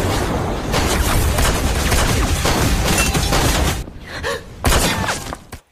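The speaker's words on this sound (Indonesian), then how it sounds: "Daoba sudah siap dengan pistolnya dan menembak Lin Xia." Pistol shots in a film scene, loud dense bursts of gunfire and impacts filling most of the clip, then a brief lull before one last sharp blast.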